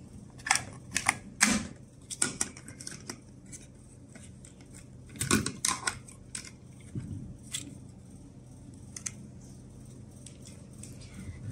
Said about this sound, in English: And then pull the battery holder out.